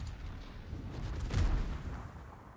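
A single heavy bomb explosion thumps in the World of Warships naval battle game, a low boom midway through, set against a quieter rumbling game background.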